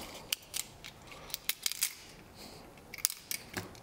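Plastic support sprues snapped and ripped off a freshly cast resin trim piece for a Honda Del Sol, giving a scattered series of sharp, close cracks and clicks with pauses between them and no talking.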